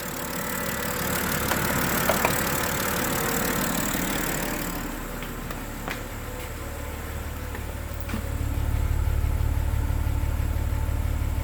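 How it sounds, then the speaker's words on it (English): A BMW E90 car engine with a bad oil leak idles steadily nearby, a low continuous rumble that briefly dips and then grows slightly louder and deeper toward the end. "It's idling pretty well though."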